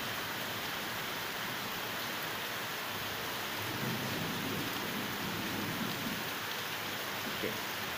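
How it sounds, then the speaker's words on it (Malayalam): Heavy rain falls steadily with a broad, even hiss, heard faintly at a distance, and a low rumble swells briefly partway through. "കുറച്ച് നല്ല മഴയാണ്."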